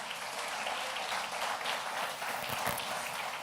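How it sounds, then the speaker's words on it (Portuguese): A church congregation applauds in a steady, even wash of clapping that runs throughout, soft and somewhat distant, with no voices rising above it. "Aplauda Jesus."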